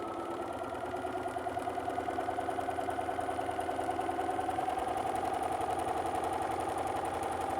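Sewing machine fitted with a walking foot quilting straight lines, its motor humming steadily and close for the whole stretch with a fast even stitching rhythm.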